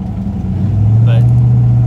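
A 1996 Chevrolet Impala SS with a Gen V engine swap drives on a test run, its engine droning low and rising into a steady, louder hum, close by with a voice faintly present.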